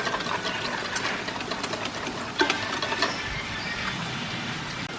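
Thick curd and salt whisked in a bowl, a rapid continuous rhythmic clatter and scraping that stays close and fairly quiet, with no talking.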